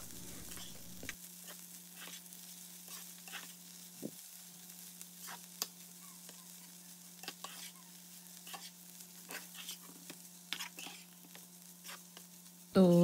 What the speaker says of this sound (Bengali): যখন ডিমগুলো সিদ্ধ হয়ে আসবে তখন আমি এগুলিকে ভালোভাবে মিশিয়ে নিচ্ছি করলার সাথে।